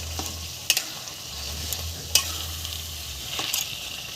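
Spices, cumin, ginger and green chillies are stirred into taro greens and chickpeas in a pan, with a soft sizzle underneath and several sharp scraping strokes at irregular intervals.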